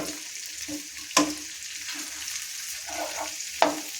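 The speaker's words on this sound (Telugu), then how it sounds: "బెండకాయ ముక్కలు కూడా వేసి ఇది బాగా వేగాలండి" Okra pieces frying in a pan, a soft continuous sizzle with occasional stirring scrapes and two sharp utensil clinks against the pan.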